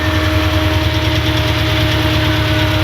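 A Mitsubishi Eclipse engine with an injector wire fault idles smoothly and steadily up close, a continuous, even hum with a faint rhythmic pulse and no voices.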